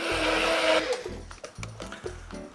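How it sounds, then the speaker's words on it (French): A kitchen blender whirs through water and olive oil for a melon recipe, running loud and close in short bursts with brief pauses between pulses. "Et là, on va mixer."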